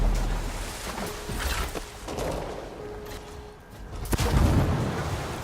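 Gunfire in Anthem aimed at a boss, with a few sharp shots and booming impacts scattered over a low rumbling background, ending in a louder blast, moderately loud and with no talking.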